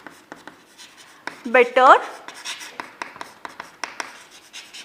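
A pen scratching on paper during grammar note making, in short, rhythmic strokes close by, with a voice speaking briefly over the writing.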